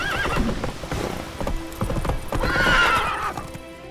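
Roach, a horse in The Witcher 3, trots with clear clip-clopping hoofbeats, then gives a loud, rising whinny near the end, close and prominent.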